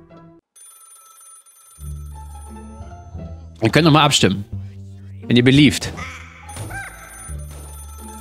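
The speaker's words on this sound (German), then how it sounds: "wir nehmen nicht das Telefon ab" Telephone ringing in Black Ops 3 Zombies on the Cheese Cube map, sounding as two loud bursts of ringing over steady game music and ambience, with someone talking over parts of it.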